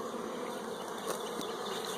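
Honey bees swarm over an open hive frame, their dense, continuous buzz steady and close throughout.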